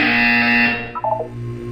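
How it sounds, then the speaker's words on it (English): A single loud electronic buzzer from the video game Portal 2, a harsh steady tone held for under a second, then cut off with a short falling electronic blip. "You will hear a buzzer. When you hear the buzzer, look up at the ceiling."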